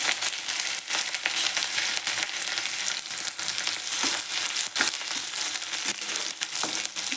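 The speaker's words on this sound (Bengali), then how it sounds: "আদাটা অল্প হালকা ভেজে নিচ্ছি।" Grated ginger frying in hot oil with bay leaf, dried chilli, cinnamon, cloves and cardamom, a steady close crackling sizzle with occasional sharper pops and stirring scrapes throughout.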